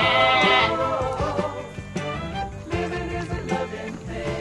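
Lambs being fed at Qingjing Farm in Taiwan bleat in several repeated, wavering calls, fairly close and clear, with a busy background running beneath them.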